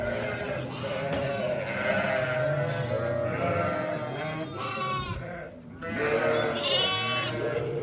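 Dense chorus of sheep and lambs bleating continuously, many overlapping calls close by, with a few brief louder cries rising out of the flock.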